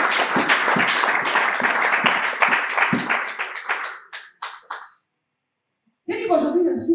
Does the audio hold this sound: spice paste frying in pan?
no